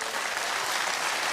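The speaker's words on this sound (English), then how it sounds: "Modest round of applause." A television studio audience gives a modest round of applause at an IQ test results show, a dense, even patter of clapping hands sustained throughout, close and fairly loud.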